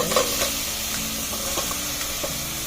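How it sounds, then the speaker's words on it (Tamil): Vegetables for sambar, including radish and a little carrot, sautéing in a pan, a continuous near sizzle with light stirring scrapes at intervals and no voices. "ரொம்ப வதங்கணும் ஒன்றும் அவசியம் இல்லை சாம்பாருக்கு, கொஞ்சமாக வதங்கினாலே போதும்."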